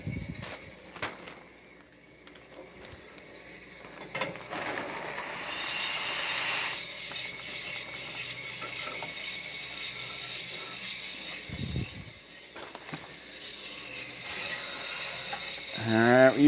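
Kaldi Mini coffee roaster roasting coffee beans, a continuous close mechanical rotating rattle and hiss with scattered clicks, steady throughout.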